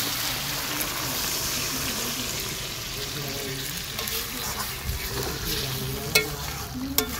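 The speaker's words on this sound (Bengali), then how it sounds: "এবারে জল দেবো।" Water is poured into frying spice masala for a fish curry, giving a continuous sizzle and bubbling with occasional stirring clinks, close and steady.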